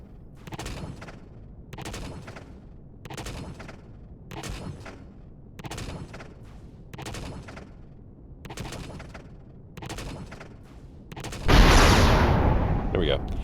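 A turret in the space game Empyrion fires about nine evenly spaced heavy shots, each with a short rumbling tail, before a louder, longer blast at the end.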